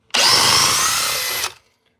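A Craftsman drill in drill mode at speed 2, running on its biggest battery, drives a 5-inch structural screw. It gives one loud, continuous whir of about a second and a half that sags slightly before cutting off.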